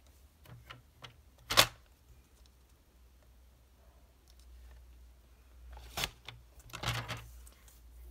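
Scissors cutting card paper in half, a few sharp close snips separated by quiet gaps, with a cluster of cuts near the end.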